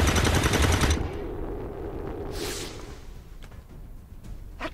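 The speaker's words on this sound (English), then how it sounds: "There's heavy fire in the zone." Rapid machine-gun fire from the arcade game Operation Wolf rattles loudly for about a second, followed by a lower rumble, a whooshing sweep and a few scattered sharp shots.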